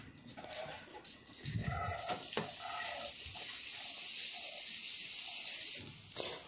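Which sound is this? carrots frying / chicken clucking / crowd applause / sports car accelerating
carrots frying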